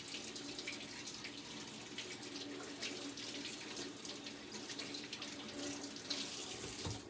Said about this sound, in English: I'm going to wash it off here.